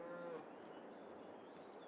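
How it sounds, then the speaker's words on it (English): A cow in the video game Farming Simulator 22 lets out a short, deep moo, faint and brief, followed by quiet ambient farm background. "Ooh, that was a deep moo."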